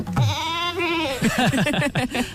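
A goat bleats at close range, one long quavering call followed by a run of short, stuttering bleats.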